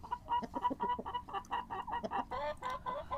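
Several Black Australorp chickens cluck in a busy, overlapping chatter at close range in a coop, a rapid string of short clucks with no talking.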